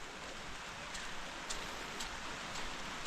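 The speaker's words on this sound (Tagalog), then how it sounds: "lakas ng ulan" Heavy rain falls steadily over a vegetable garden of bitter gourd and cucumber plants, a dense, continuous hiss with scattered louder drops, close and constant with no voices.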